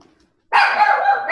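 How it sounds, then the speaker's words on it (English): A dog barks loudly and close by in a home, a sustained burst of yapping that starts suddenly after a moment of quiet and carries on to the end. "Sorry, the dog."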